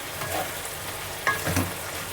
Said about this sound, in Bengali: আমাকে এটাকে কষাতে হবে যতক্ষণ না জলটা শুকিয়ে যাচ্ছে, লাউয়ের জলটা।